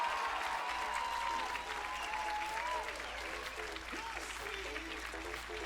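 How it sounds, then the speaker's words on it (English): An audience at a university runway show claps in sustained, dense applause, loud and steady throughout with a faint voice briefly under the clapping. "let's have another round of applause for our students who have worked so hard"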